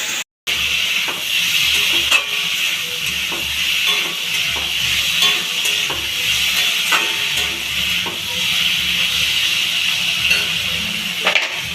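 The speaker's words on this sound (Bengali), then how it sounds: "মশলাটা এবার একটু খানিকটা ভেজে নেব" Spices fry with taro stolons in a pan, giving a steady, loud sizzle and hiss with faint scraping stirs throughout.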